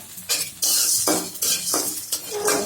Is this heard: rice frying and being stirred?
yes